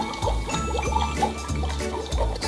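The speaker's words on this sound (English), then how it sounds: "Let's pour our water into the chamber." Water is poured into the chamber of a Beast Lab shark toy, a short close splashing and gurgling trickle with small pulses of bubbling.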